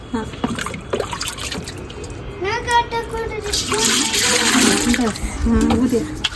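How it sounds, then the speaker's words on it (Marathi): Water splashes and gurgles as it is poured close by into flour for kurdai dough, rising in the middle, with someone talking over it. "टाकू पाणी."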